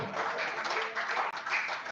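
Audience clapping at a south-east voting-rights campaign event, a dense, fairly soft patter of many hands that runs steadily with a brief dip near the end, while a voice speaks faintly underneath.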